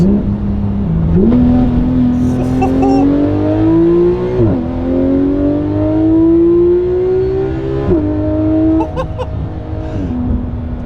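A Porsche 911 GT3 RS flat-six revs hard through several gears on a motorway pull, the loud engine note climbing steeply toward 8,500 RPM, dropping briefly at each shift, then rising again.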